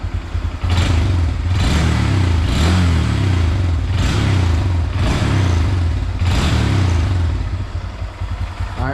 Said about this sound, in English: It's not much, but it's the stock exhaust.